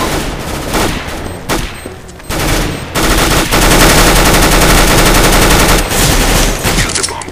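Dense rapid gunfire in Counter-Strike, loud bursts of automatic fire running almost without a break from close range, with brief pauses between volleys.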